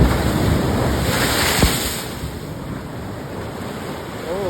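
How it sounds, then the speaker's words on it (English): Ocean waves surging and splashing close by under steady wind buffeting the microphone, a continuous loud rush with one sharper splash midway. "Oh, that was a good splash."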